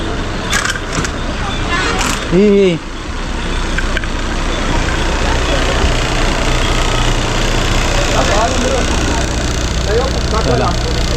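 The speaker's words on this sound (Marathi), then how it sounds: "चला गाडी आलेली आहे बरोबर सात चाळीस" An MSRTC state transport bus idles at a roadside stop, a steady low engine rumble running underneath nearby chatter, with a brief louder burst early on.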